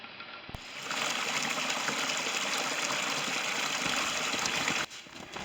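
A creek flows in a snowy woodland camp, a steady close rush and trickle of water that holds at an even level, then drops away briefly near the end.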